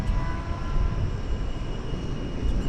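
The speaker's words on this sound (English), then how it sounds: "this is the third Sun Country flight of the morning to Cancun" A Sun Country jet airliner bound for Cancun at DFW Airport gives a steady, broad engine roar with a faint whine on top, heard from a moderate distance with no talking.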